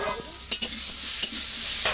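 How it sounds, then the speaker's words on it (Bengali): Onions fry in a pan in a village kitchen with a steady sizzle, broken by a few sharp scraping stirs of a utensil close up. "এখন পেঁয়াজটা দিলি আস্তে আস্তে ভাজা হয়ে যাবে"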